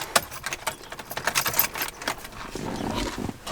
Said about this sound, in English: Where's the keys? Oh, those are my keys.